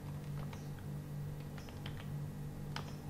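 Typing on a computer keyboard while entering data into a database form, a few scattered light key clicks over a steady low hum, faint and close.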